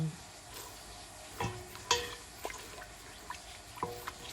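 Coconut milk goes into a pan of cooking Thai curry with pork and is stirred through, giving soft scraping stirs and light sizzling with scattered clinks and splashes at close range, no talking.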